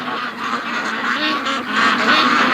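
A flock of ducks kept in a snowy yard quacks and honks continuously, a dense overlapping clamor that grows louder toward the end.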